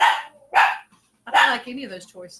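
Dogs barking indoors in a couple of loud, sharp bursts, with a person talking close by between and over the barks.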